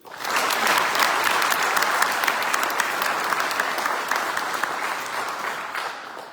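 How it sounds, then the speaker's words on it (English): Applause from the audience at a military change-of-command ceremony for an operations support squadron, a full room clapping steadily after a quick onset and tapering slightly toward the end. "Give them a round of applause."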